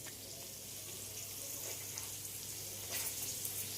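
Vegetables lightly frying in a pan for basmati fried rice, a soft, steady sizzle with a faint low hum beneath and a brief stir or clink near the end, no voices.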